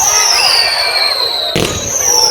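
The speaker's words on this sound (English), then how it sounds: "the first thing is like a fanned, whistling firework called Whistling Waves" A Whistling Waves fanned whistling firework screams at a city display in St James, Liverpool, with several loud overlapping whistles gliding downward and a sharp burst cutting through midway.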